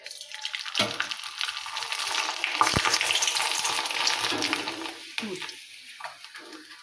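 Sabudana papad dropped into hot oil sizzles and crackles loudly, with a few sharp pops and bursts, while a voice speaks briefly over the frying.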